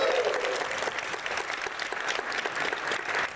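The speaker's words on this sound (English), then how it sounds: "can we give a round of applause to the behind-the-scenes team and everyone who helped get us" An audience gives a sustained round of applause at a startup demo day event, with dense, steady clapping throughout and a faint tone near the start.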